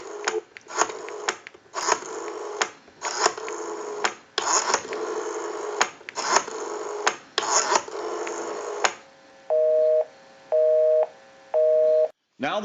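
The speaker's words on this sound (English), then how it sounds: "Give you some dial tone there." A Western Electric 500 rotary desk telephone plays a steady dial tone in long stretches, broken by brief gaps, then gives way to a short, evenly spaced pulsing busy signal.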